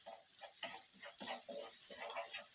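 Chicken gizzards and onion being sautéed in a pan for freekeh-stuffed chicken, giving a steady close sizzle broken by repeated soft scraping stirs.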